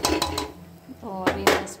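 Masala being fried and stirred in a metal pan, with clinking scrapes of a spoon against the pan in short bursts and a voice speaking between them.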